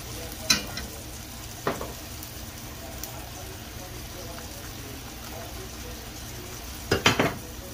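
Birria tacos fry and crisp in a hot pan, giving a steady, close sizzle throughout, broken by a few sharp taps and clinks of a utensil.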